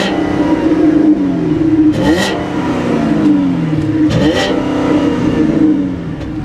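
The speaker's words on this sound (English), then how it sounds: "But it's a Hemi. You should hear the way it sounds." A 2013 Dodge Durango Hemi V8 revs loudly and close, rising and falling in two strong swells with a deep steady idle rumble between them, no voices.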